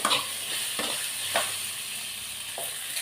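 Ground masala for cauliflower kulambu sautes in ghee with a faint, steady sizzle, broken by a few soft scraping stirs of a spoon in the pan, with no voices.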